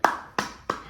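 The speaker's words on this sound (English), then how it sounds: "Clapping." Three crisp hand claps, close and evenly spaced, at a yoga session held for Holi.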